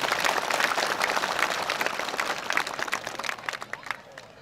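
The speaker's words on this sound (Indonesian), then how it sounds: "Tepuk tangan dulu untuk beliau." A crowd at a large Islamic religious gathering applauds an ustadz, dense clapping that starts loud and thins out toward the end, with faint voices mixed in.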